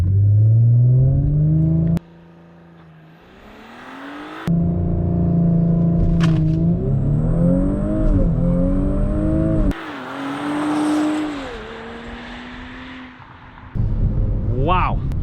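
Audi B9 S4 with a 034 Motorsport Stage 1 ECU and Stage 2 TCU tune accelerating hard in a 0-60 run, engine note climbing through rising gear pulls with clear shift drops, loud from inside the car.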